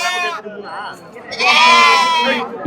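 Sheep bleat loudly and repeatedly at a busy goat and sheep market, with a short cry followed by a longer, wavering bleat, over faint crowd murmur.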